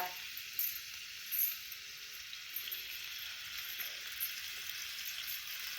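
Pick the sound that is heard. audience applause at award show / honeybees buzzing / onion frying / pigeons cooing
onion frying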